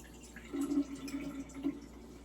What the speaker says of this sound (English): Let me pour some of this. There's a lot of juice in it.